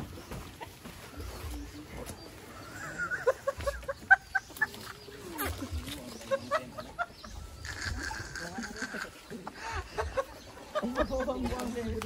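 Chickens cluck repeatedly in a backyard chicken pen, close and fairly clear, mixed with intermittent talking in the background.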